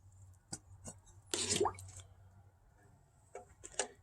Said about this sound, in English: So this is how I'm watering it with my turkey baster.